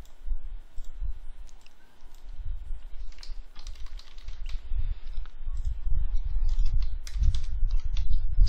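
Fingers type on a computer keyboard, a continuous run of soft, close clicks and key taps with irregular rhythm, steady and alone throughout.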